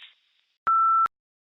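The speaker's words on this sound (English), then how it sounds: "At the tone, please record your message." A single steady voicemail recording tone sounds for under half a second, clean and mid-pitched with sharp on and off edges, preceded by a faint fading tone and followed by silence.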